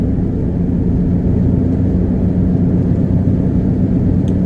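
A car drives along, heard from inside as a loud, steady low engine and road rumble that stays constant throughout, with no talking.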